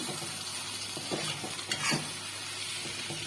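Potatoes fry in a hot iron kadai with a steady close sizzle, broken by a few scraping stirs around the middle, and no one speaks.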